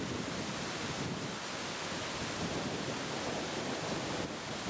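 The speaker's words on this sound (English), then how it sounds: "Breeze is still picking up, as you may be able to hear." A steady outdoor breeze rushes in a continuous broadband wash on an autumn countryside walk near a sunken lane, with no talking.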